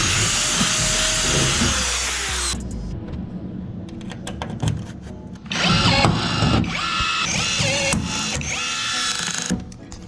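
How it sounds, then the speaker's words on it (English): A power drill bores holes into an aluminum 1436 Alumacraft Jon boat, whining loudly in sustained bursts with a pause between, the metal rattling and ringing as the bit cuts through. "To get these drilled, I'm going to a smaller drill bit, getting the whole drill through"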